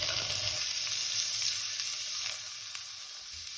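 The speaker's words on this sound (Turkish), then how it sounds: "Tencerem ısındı. İçine iç yağları koyuyoruz." Suet sizzles and crackles steadily in a hot pot, a constant bright hiss with small pops, close and alone.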